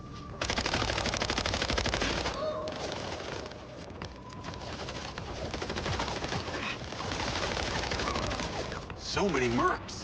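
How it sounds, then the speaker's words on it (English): Gunfire from shooting through a wall in the video game Mindseye comes as rapid, sustained automatic bursts with brief pauses, and someone talks near the end. "I'm shooting through the wall."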